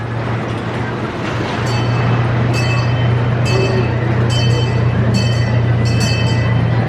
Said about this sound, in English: Up next, we're going for a ride on the Parks Railway.